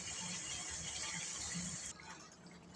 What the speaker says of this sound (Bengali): এবার আমরা পরিমাণ মতো জল দিয়ে দেবো।